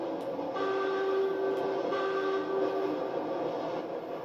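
A video game train horn sounds in a sustained, steady tone over a constant rumbling engine, holding for a few seconds before fading slightly.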